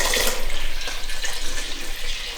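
About 3.5 litres of water poured into a brewing container for a brew-in-a-bag pale ale, a loud, steady splashing rush that runs without a break.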